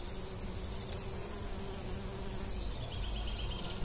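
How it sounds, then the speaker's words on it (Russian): A swarm of bees over flowering mustard makes a dense, steady hum that fills the whole stretch, with individual insects buzzing up close now and then and no voices. "сколько здесь пчел."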